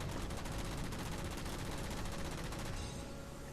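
A mounted gun in Halo 4 fires a continuous, dense stream of rapid shots. The burst stays loud and close throughout and eases slightly near the end.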